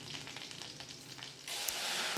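Mustard seeds, fenugreek and cumin frying in hot oil, a soft crackling sizzle with scattered pops that grows louder and denser partway through, heard close with no talking.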